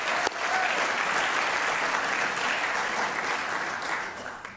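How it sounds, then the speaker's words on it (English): An audience claps steadily at an evening lecture event, a dense, even wash of applause that holds loudly for a few seconds before tapering slightly at the end, with no voices on top. "we can clap for that"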